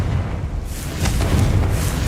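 A Confringo fire spell explodes in Hogwarts Legacy: a broad, rumbling blast that swells midway and holds for about two seconds, with no voices over it.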